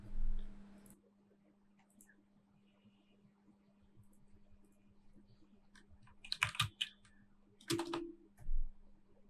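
A few quick bursts of clicky keystrokes on a computer keyboard as a command is typed, quiet and close, separated by pauses over a low steady hum.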